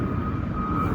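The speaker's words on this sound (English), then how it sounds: "Sorry about the airplane, y'all." Airplane passing overhead outdoors, a steady low broadband rumble with a faint engine drone holding evenly throughout, no talking.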